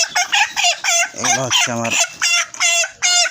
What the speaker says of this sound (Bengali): এগুলো হচ্ছে ছোটো মুরগি।